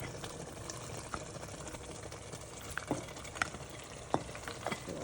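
Shaki and beef go into a pot of Egusi soup. A steady low sizzle and bubbling runs throughout, with a few soft clinks and splashes of food and utensil against the pot.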